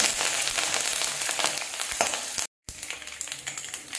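Spices and curry leaves fry in hot oil for a Bengali curry pakoda, giving a dense, close sizzling crackle with stirring scrapes, broken by a brief silent gap before the frying resumes.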